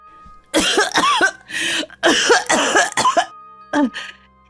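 A woman coughs in a horror story, a run of harsh, loud, close coughs in several bursts with throat-straining rasps, pausing before one last short cough.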